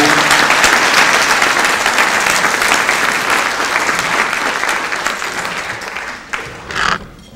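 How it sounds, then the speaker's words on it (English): A crowd applauds Francisco Bustamante at his billiards Hall of Fame induction, loud continuous clapping that gradually fades, breaking into a few scattered claps at the close. "give him a round of applause"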